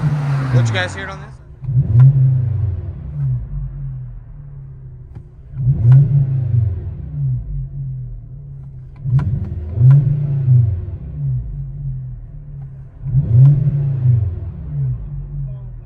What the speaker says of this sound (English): 2011 Volkswagen Jetta, an AWE catback system